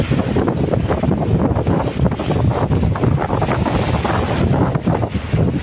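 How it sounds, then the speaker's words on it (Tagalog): Strong wind buffets a fishing boat out at sea, roaring steadily against the microphone while ocean waves churn and slap beneath it, loud and unbroken throughout. "Sana hindi na to madagdagan yung alon at hangin mga idol."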